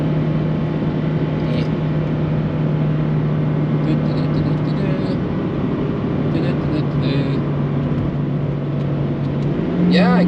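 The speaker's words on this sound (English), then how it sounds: "the car is slowing down by itself again because of the climb that we're doing" An 83-horsepower car engine labours up a climb on the Nürburgring, a loud, steady in-cabin drone holding a constant low pitch under load for about ten seconds, rising briefly near the end.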